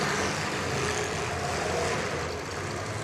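A demolition derby car's engine roars on throttle at a track event, a loud sustained rumble that swells and holds, with crowd and arena noise blended in.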